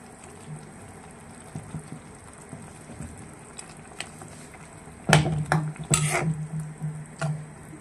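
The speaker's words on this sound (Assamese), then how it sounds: "এতিয়া মই ইয়াতে দি দিম এই কাঁচকলখিনি যিখিনি মই ফ্ৰাই কৰি ৰাখিছিলোঁ" Fried raw banana pieces are tipped into a pot of boiling gravy, making a sudden burst of clattering, splashing and sizzling after a quiet simmer, with a few spoon knocks on the pot.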